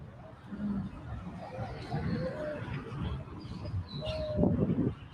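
Doves coo and chirp outdoors in brief calls scattered through the clip, moderately close, while people chat over them.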